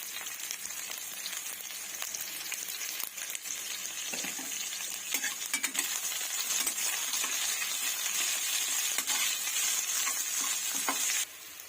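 Three medium onions frying in a pan for an oyster mushroom dish give a steady, close crackling sizzle, with occasional soft taps of a utensil, before it cuts off abruptly near the end.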